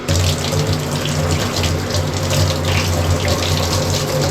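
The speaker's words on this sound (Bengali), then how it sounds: "ছাঁকনিটা না ধুইয়ে নিই একটুখানি।" A kitchen tap runs steadily while a strainer is rinsed under it. The loud, close water flow is continuous and even from start to finish.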